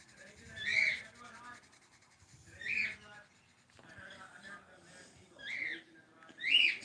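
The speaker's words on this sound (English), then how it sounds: "my birds have a lot to say today" Pet birds in a room chattering and whistling, repeated bright squawky calls in bursts every couple of seconds, close and fairly clear, with a person talking quietly underneath.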